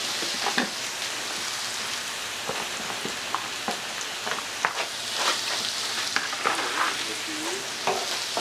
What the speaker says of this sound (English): So let's put our potatoes back in.